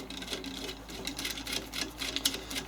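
Small metal nut spun along a threaded steel rod by hand while assembling a rear lower battery box for a DIY electric vehicle conversion, a steady close ticking rattle that quickens and slows with no voice.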